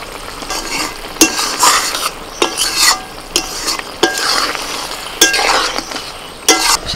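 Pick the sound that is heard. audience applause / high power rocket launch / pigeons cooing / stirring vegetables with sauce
stirring vegetables with sauce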